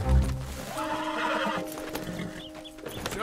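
A horse in Red Dead Redemption 2 whinnies loudly with a shaky, descending neigh, mixed with hoof clip-clops and game ambience close by.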